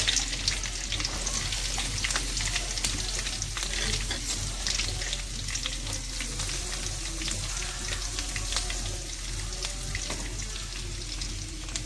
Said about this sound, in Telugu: ఆనియన్స్ ప్యాన్లో వేసేసుకుందాం